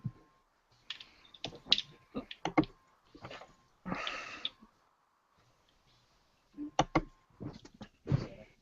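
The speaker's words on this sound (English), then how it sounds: "I can see you typing on your phone." Tapping and clicking of someone typing on a phone, coming in short irregular bursts with gaps of quiet between them, close and fairly faint.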